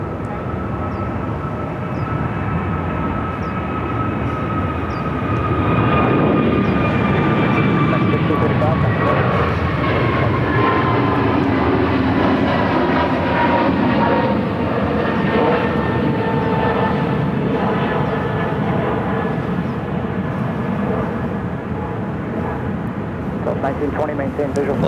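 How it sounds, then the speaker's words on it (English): An American Airlines Airbus A321 jet airliner at Phoenix airport roars steadily and loudly for the whole stretch, its engine tone swelling and shifting as it passes, with faint talk underneath. "This is American Airlines 1635 headed to Washington National in an A321."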